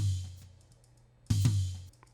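Heavily EQ'd and gated drum from a mix, two deep booming hits with a punchy attack, the second a doubled strike, with more head than tone, close and alone.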